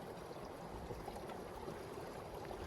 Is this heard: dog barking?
no